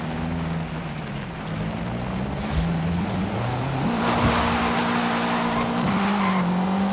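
Engine of a car in the racing game Forza Horizon 5 drones steadily and loudly, its pitch dipping and then climbing in steps as it shifts and revs, with a brief thump midway and no speech over it.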